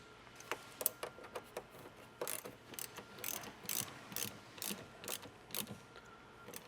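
Repeated sharp ratchet clicks in short bursts as a fastener on a switch panel bracket in a 2016–2023 Toyota Tacoma is tightened down, close and fairly clear, with no talk.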